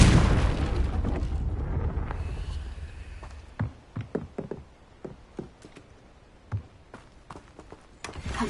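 A Confringo blasting spell in Hogwarts Legacy erupts in a loud, close explosive burst that decays into rumble, followed by a scattered series of smaller knocks and pops.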